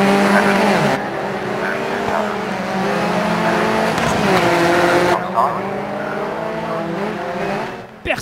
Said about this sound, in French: Voiture totalement à la dérive.